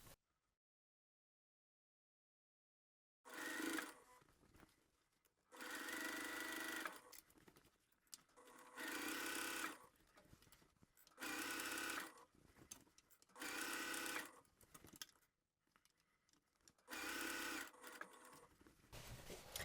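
A sewing machine stitches around the top of a fabric bag with a 2.5mm stitch length, running in loud, steady bursts of a few seconds each, separated by short pauses, heard close and without voices.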